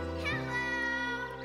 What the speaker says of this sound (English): That's the sound of your voice bouncing off the mountains.